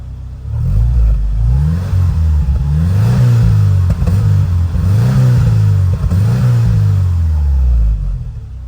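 A Subaru Impreza WRX GC8 fitted with a Prodrive exhaust is revved repeatedly on a cold engine, giving a loud, close, deep and rumbly burble that rises and falls in about five even blips with no talking.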